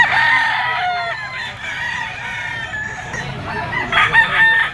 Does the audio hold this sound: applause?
no